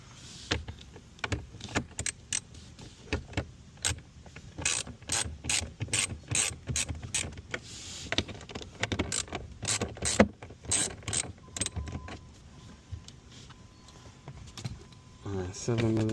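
A hand ratchet clicks in quick repeating bursts as 7mm screws are backed out of a Ford F150 dash panel, close and clear, with a man's speech heard in between the bursts.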